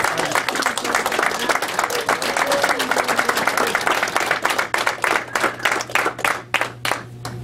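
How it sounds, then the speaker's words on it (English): Applause for graduates at a November 2017 advanced culinary graduation ceremony at Fort Lee, Virginia: a crowd claps steadily, densely at first and then thinning into separate claps toward the end, with a low steady hum beneath. "please give a round of applause to the graduates of Class"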